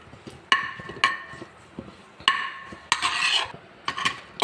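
Ginger, tamarind and chillies sautéed in a pan for a mint pickle, heard as a series of sharp spoon scrapes and clinks against the pan at irregular intervals, with a faint sizzle underneath between strikes.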